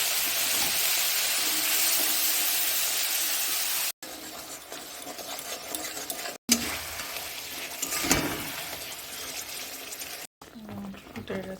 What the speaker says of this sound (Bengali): জিরা ফোড়ন দিয়ে